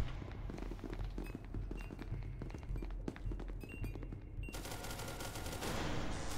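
Gunfire rattles in the horror game SCP, a rapid string of close, punchy shots in uneven bursts, thickening into a harsher, noisier stretch near the end.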